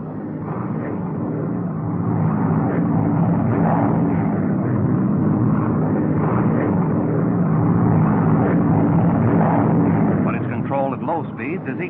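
A Lockheed P-38 fighter airplane drones steadily overhead: a continuous, loud, rumbling engine roar that holds for the whole stretch. A narrator's voice runs over it on an old, muffled recording.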